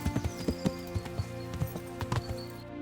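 Video game horse hooves clip-clop in an uneven trotting rhythm, a dozen or so sharp hits over a steady background, fairly close.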